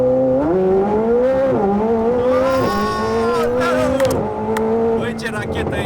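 A McLaren 765LT Spyder launches hard from a standstill, its engine note climbing steadily through rising revs with brief shift dips, loud and close throughout, while people talk over it inside the car.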